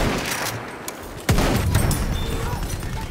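Gunfire in a Battlefield 1 match: a loud, sharp sniper shot cracks up close, leaving a long rumbling tail over the busy battlefield noise.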